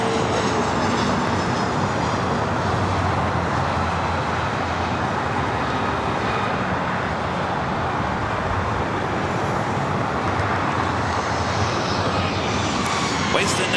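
Southwest airliner jet engines roaring at LAX airport during takeoff on runway 24 right, a loud, steady broadband rush lasting throughout with no pauses, close and dominant, with no talk over it.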